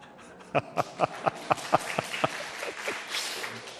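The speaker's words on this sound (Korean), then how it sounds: "뭐 박수까지 쳐주십니까?" Scattered handclaps from a Korean church congregation: roughly eight sharp, evenly spaced claps ring out fairly quietly, then thin and trail off into a soft murmur.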